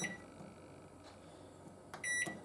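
A microwave oven's control panel beeps as buttons are pressed, a few short faint electronic tones in a quiet room.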